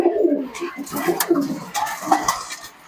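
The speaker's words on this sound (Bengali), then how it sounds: "এই হচ্ছে আমার রয়্যাল টেডি কবুতর" Royal Teddy pigeons, a male and a female kept at home, give soft repeated low coos in a loose rhythm, with faint clattering nearby.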